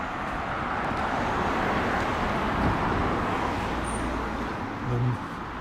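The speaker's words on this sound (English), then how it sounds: "I'll get away from the traffic noise." Road traffic on Helen Road, Oxford, makes a steady broadband roar of passing cars, with a brief rise and a low vehicle rumble near the end.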